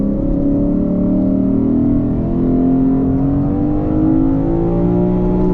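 Lexus IS500 2024 V8 engine revving from inside the car, a steady loud drone with slowly rising and falling harmonics throughout, no talking.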